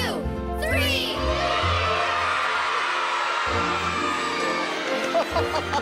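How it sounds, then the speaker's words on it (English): A group of children shout their answers loudly at once during a dinosaur quiz on a kids' dino show, a dense burst of overlapping young voices and cheering that carries on with laughter and chatter. "yell out your answer as loud as you can"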